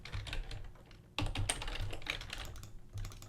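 Rapid typing and clicking on a computer keyboard, a fast, uneven patter of close keystrokes with a brief heavier burst near the middle, and no voices.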